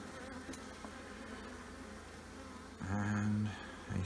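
Honeybees buzz around an open hive during an inspection after being smoked, a continuous low hum with louder droning passes up close and faint handling noises, no voices.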